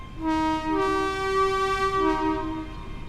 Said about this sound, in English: What does the horn sound like?